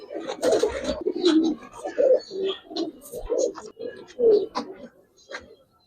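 Giribaz pigeons coo at a busy pigeon market in repeated throaty, rolling calls, close and fairly loud. They overlap with each other and with light background chatter.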